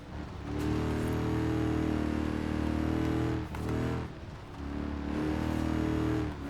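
Supercharged V8 car in Forza Horizon 4 racing game, a loud, sustained engine roar revving steadily with brief dips between pulls, close and dominant with no talk.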